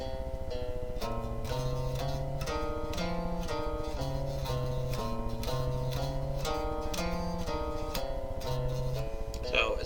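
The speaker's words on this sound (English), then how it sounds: "You just play the exact same pattern a half step up" Computer-played guitar-like pattern harmonized in minor seconds, two close notes moving together in steady even rhythm, a clashing repetitive line of bright plucked tones, near and constant throughout.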